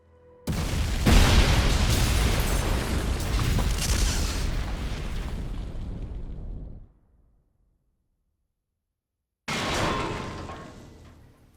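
A huge explosion in an animated action film roars as a long, loud, dense rumble for several seconds, cuts to total silence, then a second blast bursts in and begins to fade.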